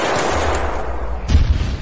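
Gunfire aimed at a UFO in a sci-fi scene: a low rumble, then a sharp close burst of shots near the end.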